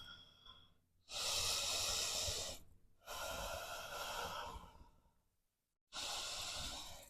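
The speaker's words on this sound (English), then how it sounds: "Ujjayi pranayama, that gentle constriction in the throat as you breathe out" Ujjayi breathing during a yoga flow, with a gentle throat constriction giving each breath a soft, hissing rush; three long breaths, close and steady, separated by brief pauses.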